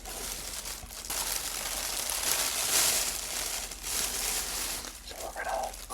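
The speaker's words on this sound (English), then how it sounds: "one of the H Mart plastic bags that I wanted to make some crinkles with." An H Mart plastic bag is crinkled and crumpled close up, producing dense, crackling rustles in uneven bursts. No one speaks.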